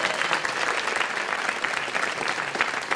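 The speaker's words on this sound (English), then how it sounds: "Let's hear a round of applause for our sponsors." Audience applause at a live Bay Curious public event, a dense, steady clapping from a crowd that stays loud and even throughout without any voices.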